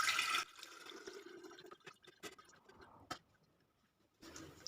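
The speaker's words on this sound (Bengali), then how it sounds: "কিছুটা ঠান্ডা জল দিয়ে ছানাটাকে আমি ধুয়ে নিচ্ছি।" Cold water splashes and runs over chhana (fresh cottage cheese) being rinsed by hand for rasmalai, with a louder rush at the start, quieter trickling and drips in the middle, and a renewed flow at the end.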